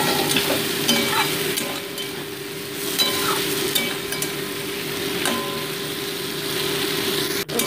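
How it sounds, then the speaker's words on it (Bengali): Fried cauliflower pieces stir-fried in a pan with mashed spices, a continuous close sizzle under repeated scraping strokes of the spoon, with a low steady hum in the background and no talk. "এবার ভেজে রাখা কফি টুকরোগুলোকে অ্যাড করে দিচ্ছি। দিয়ে মোটামুটি এটাকেও 2 মিনিট আমি কষিয়ে নিচ্ছি।"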